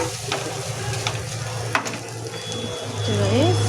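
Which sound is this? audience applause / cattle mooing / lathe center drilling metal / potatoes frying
potatoes frying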